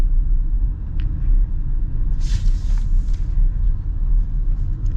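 A 2024 Audi SQ7 luxury family SUV rolls along with a steady, loud low engine and road rumble filling the cabin, with a couple of faint brief clicks and a short higher hiss partway through.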